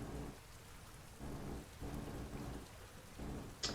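Steady heavy rain with rumbling thunder rolling through a storm in the Sailaway sailing simulator game, continuous and enveloping, with a brief sharp crack near the end.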